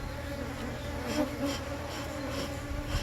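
Honeybees buzz steadily around an open hive while frames are worked, a dense continuous hum close by with a few louder passes of individual bees.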